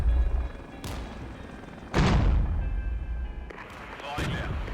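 French units firing in the wargame Regiments, a few heavy booming shots with long decaying rumbles, spaced apart, under a speaking voice.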